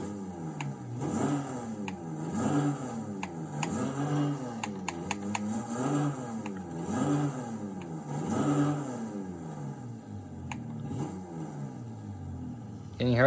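Toyota Tacoma and Mercedes X-Class pickup engines rev in turn in the Forza Horizon racing game, each blip rising and falling in a steady repeating rhythm, loud and close with no talk.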